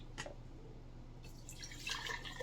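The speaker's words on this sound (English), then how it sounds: "So I'm just going to put 2 cups of warm water." Warm water poured from a tea kettle into a jar, faint splashing and dripping sounds that build into a light trickle toward the end, quiet and close with no talking.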